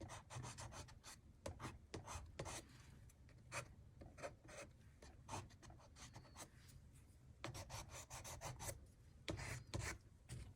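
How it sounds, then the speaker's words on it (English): A tool scratches and rasps across a surface during expressive art mark making, in quick, irregular bursts of dry scraping, close and fairly quiet, with no voices. "Do you hear the sound of it scratching?"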